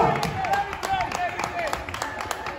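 An audience at a Miss & Mister pageant claps for a contestant, with scattered sharp hand claps and cheering rising under a voice talking over the crowd.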